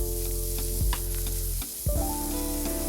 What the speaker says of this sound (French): nous allons ajouter 4 gousses d'ail hachées à la viande et aux pâtes